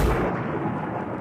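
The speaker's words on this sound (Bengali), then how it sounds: "কি আশ্চর্য, এই সময় এমন বজ্রপাত!" A thunderclap for an animated folk tale, a single heavy low boom that rolls off quickly, alone.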